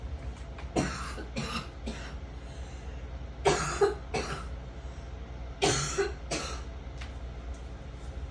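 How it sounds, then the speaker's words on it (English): Several close coughs come in short clusters, a pair or triple at a time with pauses between, over a low steady background hum. "I got a cough."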